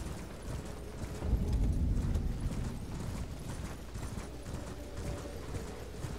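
Horse hooves clopping in Elden Ring as the rider travels on horseback: a steady, rapid, rhythmic thudding that swells in the second second, then carries on evenly, with no talk over it.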